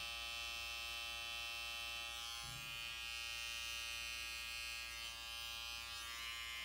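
An electric hair clipper buzzes steadily and close while tapering the hairline on a man's neck in a barbershop, a constant faint hum with no talk.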